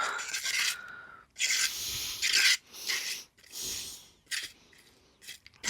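Excess paste is skimmed off a stencil in a watercolour and paste craft session, with a series of short, close scraping strokes separated by brief pauses and no talking.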